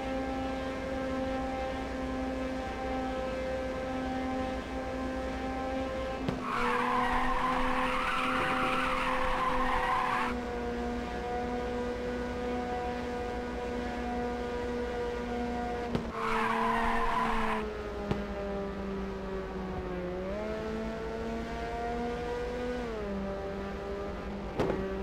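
Race car in Ridge Racer 2 sliding through drifts, long squealing tire skids rising in two loud bursts over a steady, high engine whine, the engine pitch dipping and climbing between them.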